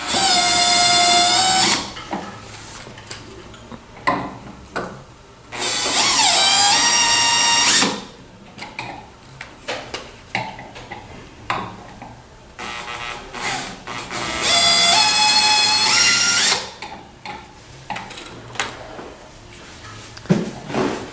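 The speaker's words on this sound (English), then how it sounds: "Remove the 3 screws that secure it." Electric screwdriver backing out screws from the rear shroud of a Novo massage chair, three loud whirring bursts of a few seconds each, separated by quieter handling and clicks.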